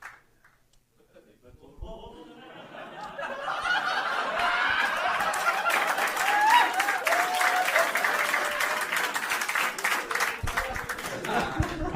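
Audience applause at a comedy show swells after a quiet opening into sustained, dense clapping that fills the room, mixed with scattered chuckles and laughter and some voices talking underneath.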